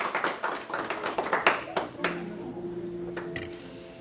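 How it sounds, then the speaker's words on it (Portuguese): A church congregation claps in a brief burst of uneven applause, which fades into a lingering tone and a sung or spoken voice. "Salva de palmas para Jesus."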